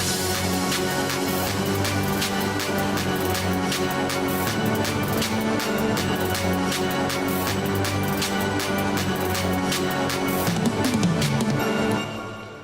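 An EDM trap drum pattern layered over a looped melody plays as a dense, loud groove of rapid percussive hits over sustained tones, stopping abruptly near the end with no one speaking.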